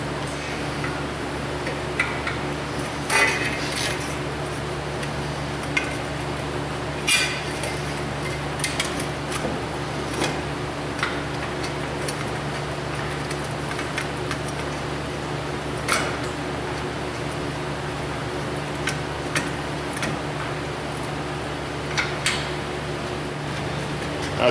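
Bolts being hand-threaded into a rear hub and bearing assembly on a Dodge Grand Caravan: soft, sparse metallic ticks and clicks of metal on metal over a faint steady hum, close by and quiet.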